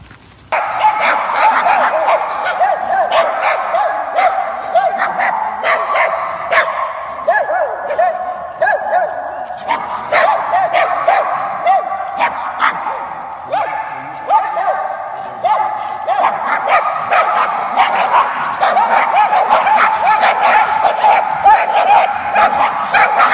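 Several dogs bark and yip repeatedly around an abandoned housing development in China, close and persistent throughout, with people talking over the barking.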